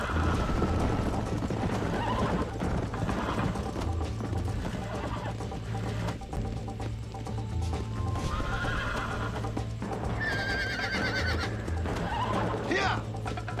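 In a Red Dead Redemption game race, a horse neighs and whinnies several times over clip-clopping hooves and background game sound, with a voice speaking at moments.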